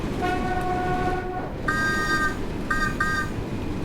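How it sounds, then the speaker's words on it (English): Class 484 electric train whistle in the Train Sim World 2 simulation on the Isle of Wight line: a long tonal blast, then a pause and three shorter blasts, over steady rumbling running noise. "Love the whistle as well."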